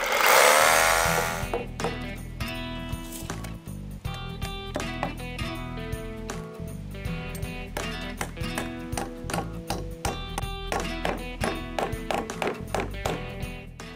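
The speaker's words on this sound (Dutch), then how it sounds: "ik kan hem nu verder gaan boren met een betonboor" A power drill with a masonry bit bores into a concrete garden post, a loud droning whine with repeated hammering pulses growing more rhythmic toward the end.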